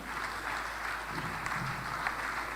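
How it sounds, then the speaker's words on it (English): Graduation ceremony audience clapping for a professor, soft distant applause spread through a large hall, quiet and steady over an electrical hum. "Let's clap for him."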